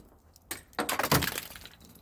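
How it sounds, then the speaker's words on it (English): Ice gets knocked off a car, cracking and breaking loose in a short burst of brittle crunching and clattering chunks, close and fairly loud, then settling quickly with no talking. "there, knock all the ice down"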